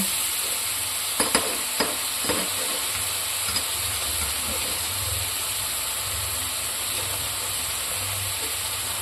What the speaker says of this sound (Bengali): সেই মশলার পেস্টটা দিয়ে খুব ভালো মতো মশলাটাকে কষিয়ে নেব